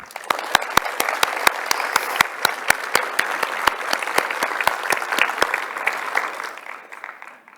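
Audience applause welcoming Apollo 11 mission control panelists at Space Center Houston: steady clapping from a moderate crowd with sharp individual claps standing out, sustained for several seconds before tapering off.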